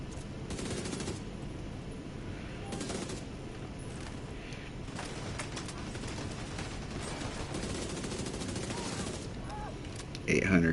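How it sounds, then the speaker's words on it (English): Dense, rapid submachine gun fire in the Division 2 video game rattles on in repeated bursts across the whole stretch, moderately faint and continuous, with a louder burst at the very end. "This is an SMG, you guys."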